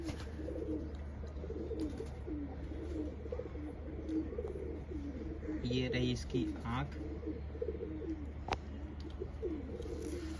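Soft, repeated throaty cooing of a hand-held pigeon close by, continuing under a man's low speech and faint background rustling.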